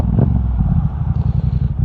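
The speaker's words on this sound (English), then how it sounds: "wait for this couple of trucks to go by." Trucks rumble past on a road during a Yamaha MT-07 motorcycle ride, a loud, close low-pitched engine drone with clattering that swells and fluctuates briefly.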